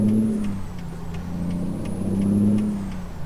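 A heavy truck engine in American Truck Simulator hums steadily after a failed floating gear shift, with a faint repeated clicking and a high whine running above the low drone.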